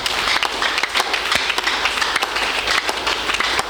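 A church congregation claps hands for Jesus, a dense, steady wash of many hands filling the room at close range with no pauses.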